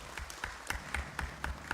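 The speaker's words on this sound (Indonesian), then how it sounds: "Tepuk tangan buat Cilegon." Attendees at a city council plenary session marking Cilegon's 26th anniversary clap in steady unison, about four crisp, evenly spaced beats per second, moderately close, with no talk over them.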